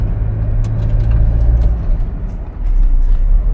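Toyota Innova Crysta ZX 2025 driving slowly on a road, a steady low engine and road rumble from inside the cabin with a brief dip before it swells again, no talk.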